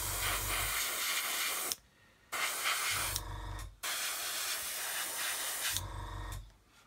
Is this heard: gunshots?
no